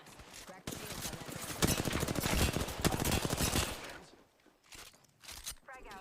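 Rapid automatic gunfire rattles in a video game shootout, a dense loud burst lasting a few seconds that then fades to scattered shots, with a player talking over it.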